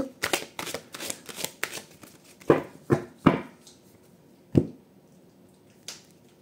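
A deck of oracle cards being shuffled and cut, a quick run of crisp riffling flicks followed by several separate louder slaps and taps of cards, close and clear with no talk.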